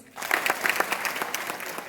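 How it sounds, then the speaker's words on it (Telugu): An audience at a business talk bursts into applause, many hands clapping together in a dense, steady patter that continues without pause. "ఒక క్లాప్ కొట్టరా నా కోసం."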